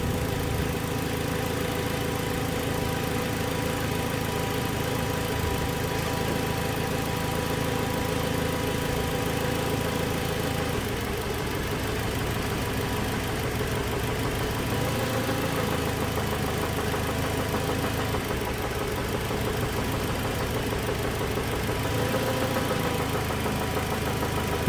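A 2007 Toyota Tacoma with the 2.7 engine idles steadily close by, with a persistent rhythmic knock running under the even engine hum throughout.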